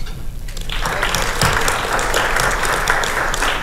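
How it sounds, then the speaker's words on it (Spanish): Audience at a political party plenary session breaks into applause, starting quietly and swelling within the first second into loud, sustained, dense clapping that holds steady to the end, with no speech over it. "les pido un fuerte aplauso"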